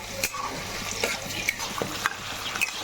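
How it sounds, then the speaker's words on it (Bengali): Faint sizzling of raisins, cashews and peas frying in oil, with scattered light clicks and taps as they are stirred around the pan. "কিশমিশ কাজু কড়াশুটিটা তেলে দিয়ে দিচ্ছি এখন ভেজে নিচ্ছি"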